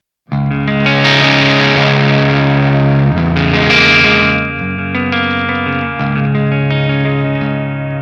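An electric guitar plays through a Volcano Soldano amp simulator set to high gain, giving loud, saturated distorted chords that ring and sustain, changing every few seconds with no talking.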